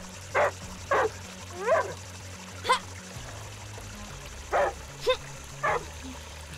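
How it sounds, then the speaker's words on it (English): Angry dog in the video game Die Young barking in short sharp bursts, about seven loud barks spaced irregularly, over a low steady game music bed. "You do, dog, I get it. You're angry."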